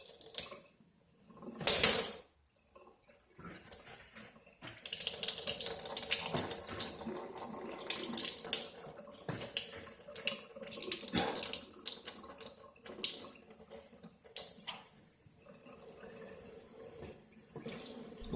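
Tap water runs steadily from a faucet to flush out a once-clogged household water pipe, a continuous close rushing stream with a brief louder splash near the start and no talking.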